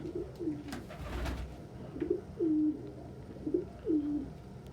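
Pet doves or pigeons coo softly indoors, several low rolling coos repeating at an unhurried pace, close and clear with no talking over them.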